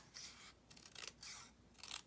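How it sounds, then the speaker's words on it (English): Scissors snip through card during a stamping craft session, several short rasping cuts in quick succession, faint and close with no talking. "I'm just going to take the scissors"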